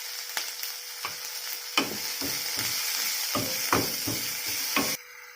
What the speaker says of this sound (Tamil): வெங்காயத்தை 1 நிமிஷம் நல்லா வதக்கி விடுங்க